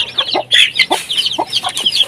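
Hens and chicks cluck and cheep in repeated short bursts, a dense chorus of high peeping over lower clucks, close and fairly loud, with no talk.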